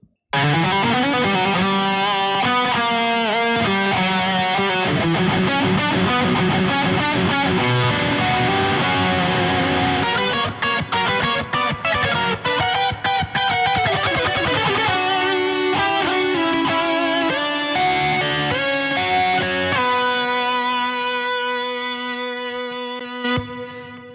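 A loud, heavily distorted electric guitar solo with effects plays continuously, fast melodic runs and sustained notes, ending on a long ringing held tone.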